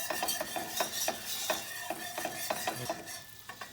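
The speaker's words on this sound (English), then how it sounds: "just keep working it with a whisk" A whisk scrapes and stirs a roux in a pot for chicken gumbo, with steady rhythmic strokes and a faint sizzle underneath, close and moderately loud with no talking.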